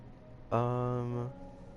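A single sheep bleats in the Minecraft video game, a steady, tonal baa that lasts under a second and stands out clearly against a quiet background.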